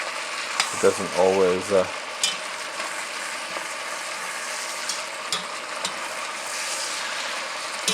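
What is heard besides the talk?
fat frying in a pan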